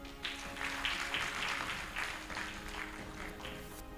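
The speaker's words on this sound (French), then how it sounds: "Je pense qu'on peut applaudir ça." Audience applause at a talk, a fairly quiet, even wash of many hands clapping throughout, somewhat distant, with no voices over it.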